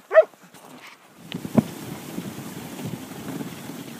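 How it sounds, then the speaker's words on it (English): Dogs outdoors on a clear frosty day give a loud single bark near the start and a second sharper yelp midway, with wind rumble and light movement noise filling the rest. "Supai and Amy, good dogs"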